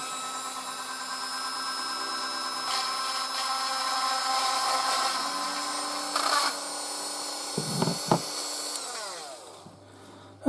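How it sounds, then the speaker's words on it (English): A high-pitched rotary tool with a drill bit end whines steadily while tidying seam lines on a resin model kit, then bumps and clatters briefly before winding down. "I'm going to go in with one of these drill bit ends"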